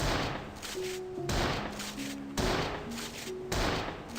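Rocket launcher firing in a video game under development: four loud, evenly spaced blasts, each with a long roaring tail and a faint electronic tone between them.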